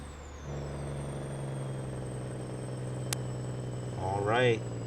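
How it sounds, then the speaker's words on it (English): A cab-over truck in American Truck Simulator holds a steady, loud engine drone with harmonic tones, then the Jake brake engages near the end as a rising, stuttering growl. "I'm going to hit the Jake here"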